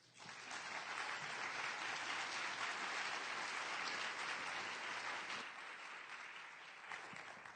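Audience at a women's forum applauding to welcome speaker Gail Evans, a full, sustained round of clapping that swells quickly, holds steady, then eases off slightly near the end.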